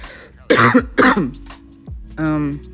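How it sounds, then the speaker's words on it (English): Two strong, close coughs in a row from a lingering COVID cough, followed by a throaty vocal sound and a brief hum. "It's that COVID cough"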